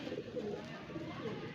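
Racing pigeons readied for a summer flying tournament in Bareilly, cooing softly and steadily in a close, continuous murmur under a hum of outdoor background noise.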